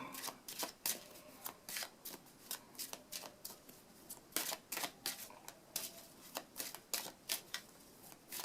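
Tarot cards being shuffled at a reading, quiet close riffles and slaps in an uneven rhythm of short bursts, alone with no talk.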